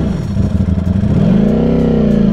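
A Ducati-style Lamborghini Streetfighter motorcycle fitted with a titanium exhaust revs loudly up close, a deep, throbbing burble that climbs into a rising rev and holds high at the end, with no talking.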